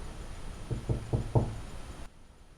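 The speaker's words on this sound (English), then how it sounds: "Never heard anyone knock so quietly." Four soft, evenly spaced knocks on a door, quiet and slightly distant, followed by near silence.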